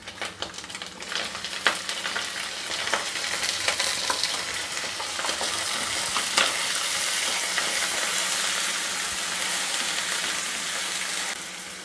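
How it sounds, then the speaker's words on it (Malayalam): Shallots frying in a pan for a dry beef dish: a loud, dense sizzle swells as they hit the hot oil, with scattered scraping taps of stirring early on and a steady hiss afterward. "ഇനി നമുക്ക് ഇതിലോട്ട് എടുത്ത് വെച്ച് ചുവന്നുള്ളി ഇട്ട് കൊടുക്കാം."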